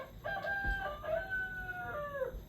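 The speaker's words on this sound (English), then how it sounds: "It's daybreak even, and the roosters are crowing." Roosters crow at daybreak in a farm scene of an Alexa audio game, a couple of drawn-out cock-a-doodle-doo calls overlapping at moderate distance over a low background hum.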